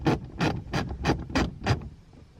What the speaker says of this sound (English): So right now I'm ratcheting and something's happening